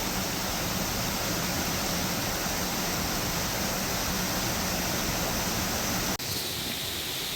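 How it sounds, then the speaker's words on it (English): A small waterfall pours into a creek in a green gorge, a constant, even hiss of falling water that holds steady throughout, with only a brief dip near the end. "there's a little waterfall there"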